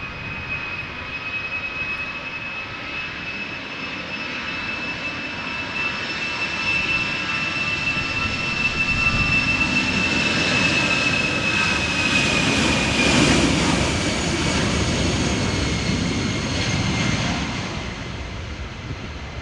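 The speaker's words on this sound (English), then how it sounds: "EasyJet A319 going to London Luton." An EasyJet Airbus A319 jet takes off from Amsterdam Schiphol in crosswind, its engines a loud sustained roar with a high whine that swells toward the middle and then slowly eases as it climbs away; no voices.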